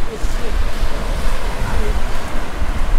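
Ocean waves wash onto a beach in Thailand, a steady rushing surf mixed with strong wind buffeting the microphone.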